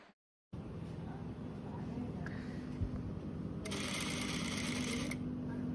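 An industrial sewing machine stitches chiffon in a steady mechanical whir that starts after a brief silence and continues throughout, with a short burst of brighter mechanical noise near the end.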